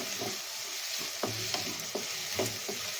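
Onions fry in a pan for coconut rice, a continuous close sizzle broken by regular scraping strokes of a stirring spoon, about one every half second.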